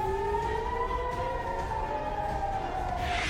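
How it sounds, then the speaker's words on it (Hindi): Air raid sirens wail across central Israel, including Petah Tikva, during an Iranian missile attack, a steady, slowly falling civil-defense tone heard from a distance over a constant background hum. "पेटाह टिकवा सहित कई इलाकों में सायरन गूंज उठे"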